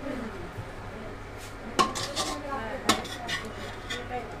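Cooked potatoes lifted from a pot of chicken biryani, two distinct metal scrapes of a spoon against the pot with lighter clinks between, close over a faint background hiss, no talking.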